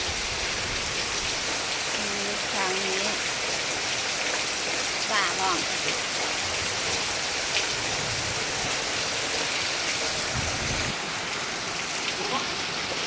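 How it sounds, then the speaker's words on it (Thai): Steady heavy rain pours down across open rice fields, a constant dense hiss with faint scattered sounds beneath it. "บรรยากาศฝนตกที่ทุ่งนามาสามเข่าจ้ะ"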